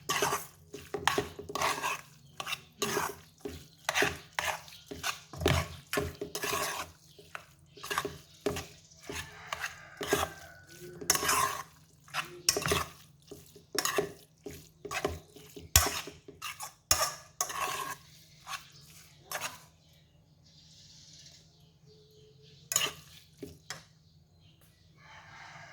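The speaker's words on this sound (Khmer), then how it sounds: "កូរវាបន្តិចណា" Close, rapid scraping and clinking of a utensil against a bowl while stirring Tirk Kroeung, a Cambodian fermented fish paste dipping sauce, in steady rhythmic strokes that stop near the end, followed by a few faint taps.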